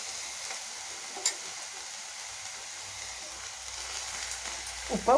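Cauliflower fries in a pan with mustard seeds and chana dal, making a faint, steady sizzle with a few soft clicks and light scraping near the end.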